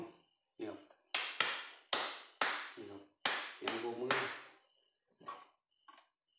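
Sharp, loud knocks near a solar-powered LED spotlight come in an uneven rhythmic burst of about a dozen hits, some in quick pairs, with short silent gaps between them.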